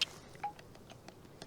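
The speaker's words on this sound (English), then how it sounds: "Oh, that's my phone." A mobile phone rings outdoors in woodland with brief electronic tones, faint and short, the first at the very start and another moment later.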